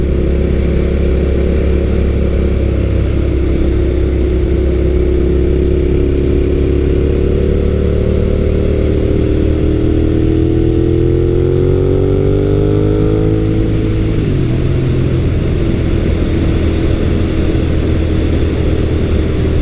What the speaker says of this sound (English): And there's that flat torque curve and that awesome sound.